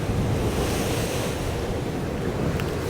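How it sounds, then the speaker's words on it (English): Steady wind roars with breaking sea surf at a seaside promenade near Sandsend at high tide, a continuous loud broadband wash with wind buffeting the microphone and no voices. "It's quite windy."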